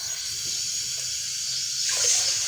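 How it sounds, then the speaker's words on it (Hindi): Water poured into a pot of rice and mung lentil khichdi, a steady hissing splash that swells louder near the end, close by with no talk. "ये हम डालने लगे हैं अब पानी।"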